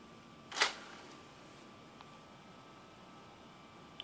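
An Xbox 360 disc tray with a fault opens in one brief mechanical clack-and-whir near the start. A faint hum and a small tick follow in otherwise quiet surroundings.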